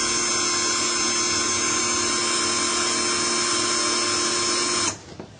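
A Hilda brushed 16V cordless rotary tool's motor whines steadily at speed setting 1, loud and close, as a continuous high-pitched buzz that cuts off abruptly near the end.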